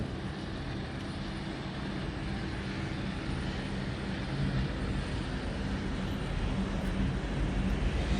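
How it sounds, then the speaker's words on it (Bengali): Several helicopters fly past low over a city in Malaysia in heavy fog, a loud steady engine and rotor drone that swells slightly as they pass. "আরও হেলিকপ্টার আসছে একসঙ্গে।"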